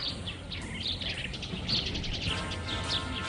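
Many house sparrows in the trees of a city square chirp and twitter together, a dense, continuous chorus of overlapping bright calls against a low background hum.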